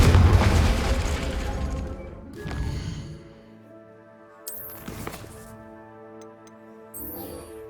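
The Confringo fire spell goes off in Hogwarts Legacy: a loud blast at the start rumbles away, followed by smaller booms and pops at intervals over a sustained musical drone.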